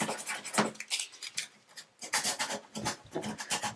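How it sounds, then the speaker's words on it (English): A chipped bathtub surface is sanded by hand with 600 grit sandpaper, making quick, rhythmic rasping strokes close up in uneven bursts with short pauses between them. "start prepping the surface by sanding it down with the 600 grit paper"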